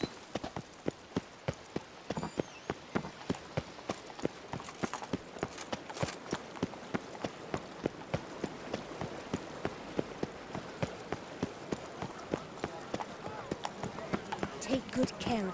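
Horse hooves clip-clopping in The Witcher 3 video game, a rapid steady run of hoof strikes continuing throughout at close range, with game dialogue spoken over it.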